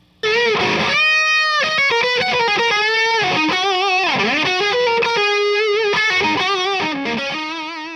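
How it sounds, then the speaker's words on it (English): Electric guitar lead played through a 5150 overdrive pedal, a distorted single-note passage with sustained bends and quick runs, loud and close and unaccompanied, ringing out at the end. "We'll let the 5150 lead this time and go first"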